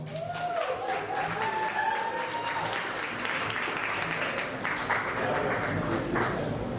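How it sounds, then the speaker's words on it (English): An audience at a poetry event gives a full round of applause, steady crowd clapping that rises as a speaker's voice fades and carries on at moderate level to the end. "Ladies and gentlemen, please give another round of applause"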